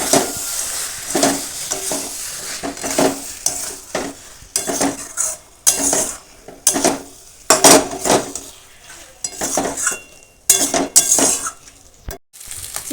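Chicken and chopped tomatoes sautéing in oil in a pot, loud stirring scrapes and spatula clanks in an irregular rhythm over a constant sizzle, with short pauses between bursts; no voices.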